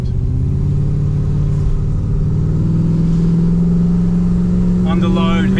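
A Holden Commodore VX SS with a rebuilt engine pulls hard under heavy load, a steady loud low rumble droning inside the cabin, with brief voices near the end.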